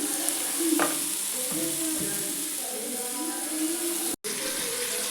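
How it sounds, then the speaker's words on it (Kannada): Washed bitter gourd pieces go into hot oil with browned onions, setting off a sudden crackling sizzle and stirring scrapes. The frying stays near and moderately loud throughout, with a brief cut near the end and no talk. "ಇವಾಗ ತೊಳೆದಿಟ್ಕೊಂಡಿರೋಂಥ ಹಾಗಲಕಾಯಿ ಹಾಕ್ತಾ ಇದ್ದೀನಿ"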